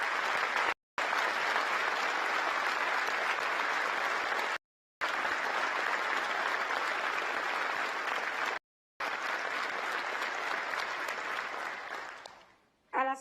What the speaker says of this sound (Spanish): les solicito un fuerte aplauso para ellos